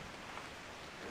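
Steady rain falls during a hike beside a bog on a humid day, a dense, even hiss of drops that fills the whole moment with no voices.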